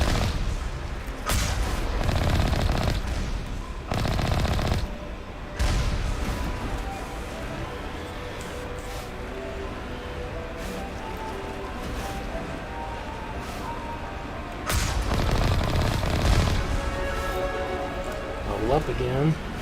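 Turret gunfire in the video game Mass Effect comes as several loud, booming bursts of shots separated by quieter stretches, with someone talking over the action.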